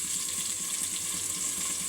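Chopped onion sizzles in hot oil already used to fry potato and eggplant, a steady, even hiss that continues without pause.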